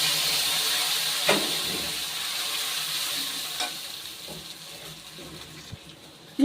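Ground spice paste sizzles and fries in hot oil for a katla fish curry, a steady close hiss broken by a few soft stirring knocks and a louder clatter at the very end.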